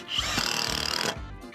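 A cordless power drill runs loud and close while goat fencing is built outdoors, a steady whirring drive with slight pulsing, cutting off abruptly near the end.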